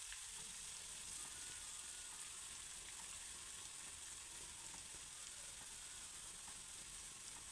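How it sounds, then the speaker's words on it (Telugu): Oil tempering with half a teaspoon of turmeric for a dried red chilli and tomato chutney gives a steady, dense sizzle that hisses evenly throughout without pause. "మంచిగా వేగనిద్దాం."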